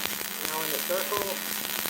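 A welding arc crackles and sizzles in a steady, loud hiss throughout, with brief bright tonal whines over a constant low hum, close to the torch.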